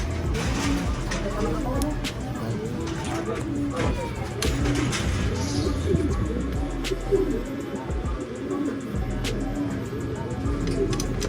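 Racing pigeons coo in soft, repeated throaty calls at a pigeon race, close by and blended with low background rumble and people talking nearby.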